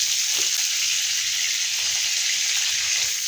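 Onions sizzling in hot oil with a bay leaf and dried red chili, a loud, steady, dense crackle that holds evenly throughout without pause, close up and with no talking.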